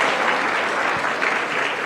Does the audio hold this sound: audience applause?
yes